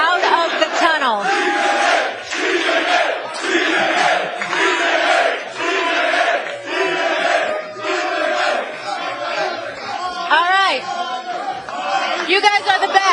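Studio crowd at a live sports-debate broadcast cheering and shouting loudly and continuously, with voices rising and falling throughout and a strong surge near the end.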